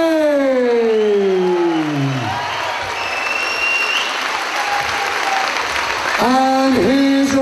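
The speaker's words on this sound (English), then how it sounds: "Let's hear it for Pete Bray." A cage-fight crowd roars, applauds and cheers for debut fighter Pete Bray, a loud dense wash of clapping and shouts, with a siren-like wailing sound effect sweeping at the start and returning near the end.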